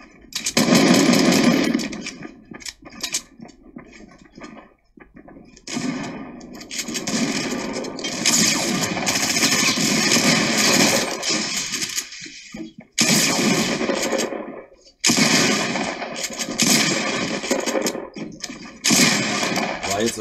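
Gunfire in the Fortnite Battle Royale video game, with sharp repeated shots and loud bursts of action running almost continuously in several blocks, separated by brief gaps, while in-game effects fill the mix.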